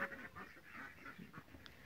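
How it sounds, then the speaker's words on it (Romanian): A Muscovy duck on a farm lets out a few short, fairly quiet quacking calls in quick succession. "O rață leșească."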